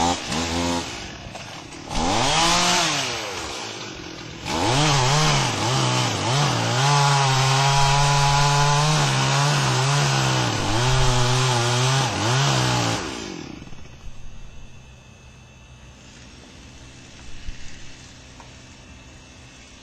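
A chainsaw bores into a tree during the felling cut, its engine note rising and holding loud under load for several seconds before dropping back to a quieter idle; no talking is heard.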